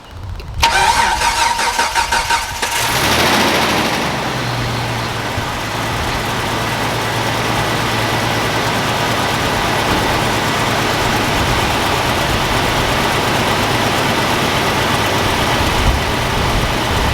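A Jeep crate engine cranks for a few seconds, catches and fires, then settles into a steady, loud idle close by that continues to the end with no talking.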